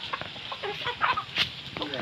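Chickens cluck and chatter close by in short, irregular calls, with a person's voice faintly mixed in.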